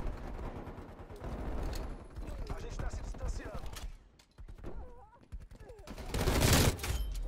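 An MT82 light machine gun fires in Call of Duty Cold War, rapid bursts of automatic gunfire with reload mechanics and game effects, under excited talk from a player.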